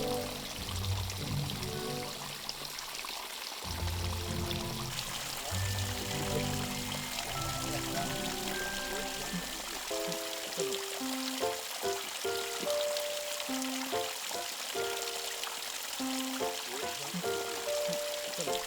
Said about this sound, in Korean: 작고 푸른 이끼들이 만들어낸 천연의 정수 시스템